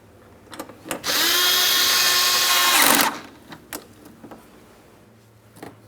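A power drill snugs up front bumper mounting bolts on a 2008-2016 Chrysler Town & Country, one steady close whir lasting about two seconds that winds down, with light clicks and handling noises before and after.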